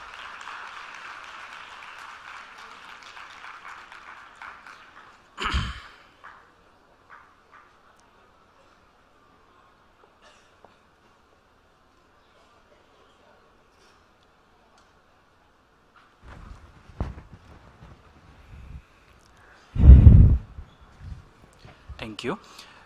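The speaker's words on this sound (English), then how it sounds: "Please give them a big round of applause." Panelists at a Y20 inception meeting at IIT Guwahati in Assam receive moderate applause that fades after about five seconds. A long quiet stretch follows, broken only by a few scattered thumps and bumps.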